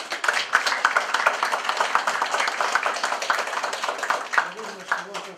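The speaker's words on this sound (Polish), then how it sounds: "Myślę, że gorące brawa." A room full of people claps, brisk and fairly loud, with the clapping continuing steadily until it thins slightly near the end.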